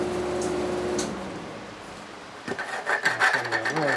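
Rasping strokes of a file deburring a metal edge, a few short rough passes close up, fairly quiet with a faint hum early on.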